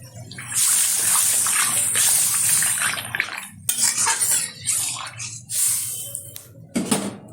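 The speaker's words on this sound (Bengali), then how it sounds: "এখন দিয়ে দেবো পরিমাণ মতো জল।" Water poured into a pot of katla fish curry with potato and taro, a steady splashing pour with metal pot clatter and stirring, near and fairly loud, broken by a few utensil knocks toward the end.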